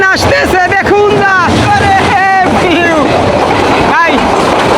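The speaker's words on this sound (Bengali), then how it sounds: "এখন একটা ট্রেন আসতেছে, দেখুন না।" Busy rail scene as a train nears on the Bonolota Express route, loud continuous rumble and clatter with horn-like tonal sweeps and people talking over it.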